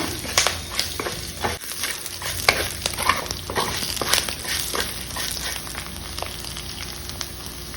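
Curry leaf sprigs crackle and sizzle in hot oil, a steady bright frying hiss broken by sharp pops and stirring scrapes, fairly loud and close with no talk.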